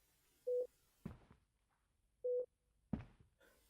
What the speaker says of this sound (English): the beeping from inside room 6 grew louder